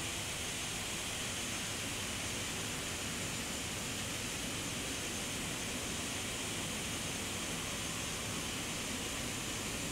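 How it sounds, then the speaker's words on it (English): Another aircraft departs in a flight simulator game, its jet roar a steady, loud broadband rush that holds unchanged for the whole stretch with no voices on top. "And there goes the other aircraft now departing."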